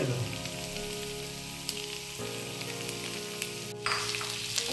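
Chicken cooks in butter and garlic in a pan, a quiet, even sizzle running steadily beneath a faint steady hum, with a couple of small ticks.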